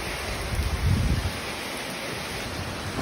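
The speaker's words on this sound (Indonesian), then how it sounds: "Anginnya besar." Strong storm wind during heavy rain in Banyuwangi, heard as a steady broadband roar of gusts buffeting the microphone, swelling briefly near the start, with no talk.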